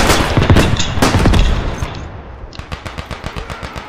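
Gunfire in the video game Beyond The Wire: a dense, loud burst of rapid automatic shots, followed by a quicker rhythmic string of separate sharp single reports.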